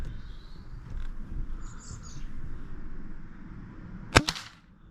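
A GHK AKM airsoft rifle on winter gas fires 0.2 gram BBs outdoors, a single sharp crack followed quickly by a second, softer report, with faint birdsong in the quiet background.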